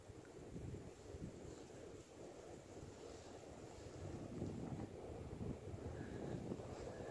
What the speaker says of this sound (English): That wind, guys. It's gonna be a cold winter this year.